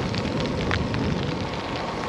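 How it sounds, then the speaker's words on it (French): After a storm, light rain keeps falling outdoors on a cycling route, a dense, steady hiss of drops that stays even and continuous, with no voices. "l'orage est derrière moi, il pleut encore un peu"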